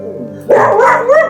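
A dog barks at another dog outside a house near Tinchuley and Lamahatta in the Darjeeling hills, giving one close, drawn-out bark that starts suddenly partway through and holds to the end.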